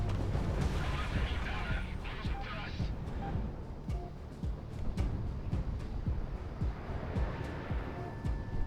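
Missile launch and impact in the flight combat game Project Wingman, a dense rumbling roar with repeated sharp booms and crackling blasts throughout, loud and continuous under a talking voice.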